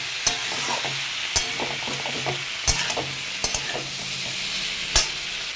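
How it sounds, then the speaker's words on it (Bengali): Pointed gourd and shrimp sautéing on a low flame, giving a continuous close sizzle with a spatula scraping and knocking sharply against the pan at irregular intervals. "এবারে পটল আর চিংড়ি মাছটা সবগুলো মিশিয়ে ভালো করে একটু লো ফ্লেমে কষিয়ে নেব।"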